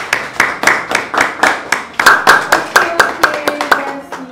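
A small audience at a birthday gathering claps in a steady rhythm of distinct hand claps, close and fairly loud, with a few overlapping claps and occasional voices underneath.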